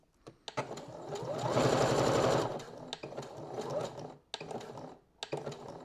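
A sewing machine stitching back and forth across a garment strap, with a close, rapid mechanical whir that swells into one longer run and then breaks into shorter bursts and clicks.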